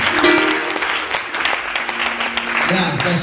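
A congregation at a church prayer gathering claps for invited guests, a dense, steady burst of applause heard nearby while a voice carries on speaking over it.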